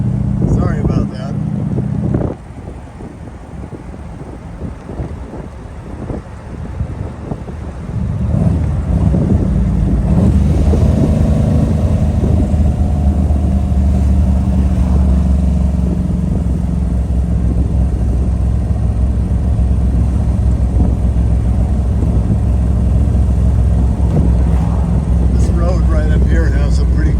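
Ferrari 250 GT California clone built on a Modena chassis, engine droning steadily while driving on a neighborhood road, pulling off in third gear with a rising, constant rumble under wind buffeting, with someone talking over it.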